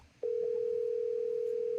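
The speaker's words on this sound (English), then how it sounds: "I need to make a phone call." A telephone dial tone starts abruptly after a faint moment of room noise, then holds as a single steady, loud, unbroken hum until the end.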